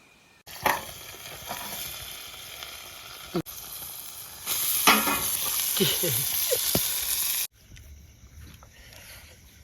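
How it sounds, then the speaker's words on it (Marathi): Boit fish sizzle in hot oil over a cold-night campsite fire, a steady close frying hiss that swells louder midway, with brief breaks and faint clinks before it drops off near the end. "बोट तयार होत आहेत फ्राय होत आहेत"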